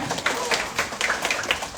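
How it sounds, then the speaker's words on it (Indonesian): At a large career seminar, the whole audience claps together, a brisk, fairly loud patter of hands with slight pulsing that fills the short stretch. "silahkan tepuk tangan semua"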